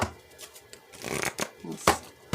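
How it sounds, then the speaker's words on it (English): A deck of playing cards is shuffled by hand during a full-deck reading, producing close, crisp riffles and slaps in quick uneven bursts, with no talk. "Let's get this deck fully shuffled before we move into group 3."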